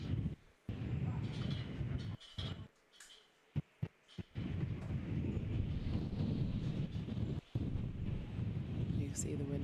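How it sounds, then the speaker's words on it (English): Strong wind buffets the microphone beside the water at an outdoor junior and under-23 sprint canoe and kayak regatta, a steady loud roar with a few sudden brief drop-outs. "You can see the wind has really picked up now"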